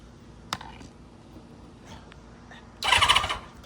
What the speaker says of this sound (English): if you push the clutch in and press the button